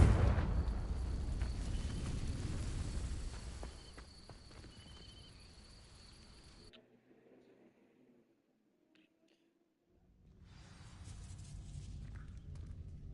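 Confringo fire spell cast at dry vines in the Hogwarts Legacy video game, a loud burst of crackling fire and rumbling blast that fades over several seconds to near silence before ambient game sound returns.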